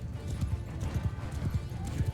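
Horses gallop through a battle in Mount & Blade II: Bannerlord, with a steady run of low hoof thuds and clip-clop beats across the whole stretch, plus a brief whinny, all close and fairly loud.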